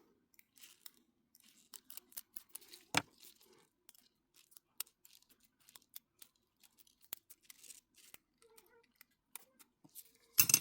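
Small scissors snip nail foil in a string of sharp, close clicks and crisp cuts, irregular and quiet, with a few louder snips.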